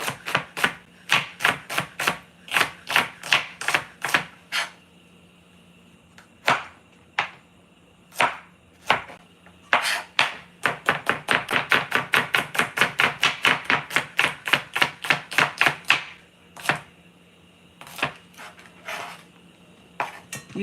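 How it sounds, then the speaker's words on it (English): Okra is chopped with a knife on a cutting board in a home kitchen, a long run of sharp, close knocks in irregular bursts, some slow and spaced, others rapid and steady, with no talk. "You can also cut your okra like this before you start cutting."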